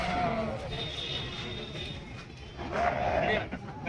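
Sheep and lambs bleat at a busy sheep market in Bangalore, with several wavering cries rising over a constant crowd murmur, while someone talks nearby.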